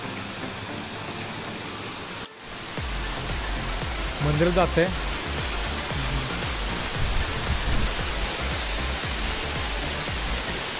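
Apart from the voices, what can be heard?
small waterfall flowing from a hill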